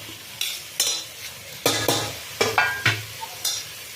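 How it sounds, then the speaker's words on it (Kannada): Soya chunks, potato, beans and tomato fry in a pan for mint pulao under a low sizzle, with a spoon scraping and knocking against the pan in irregular stirring strokes. "ಇದನ್ನು ಒಂದು ಐದು ನಿಮಿಷ ಫ್ರೈ ಮಾಡೋಣ"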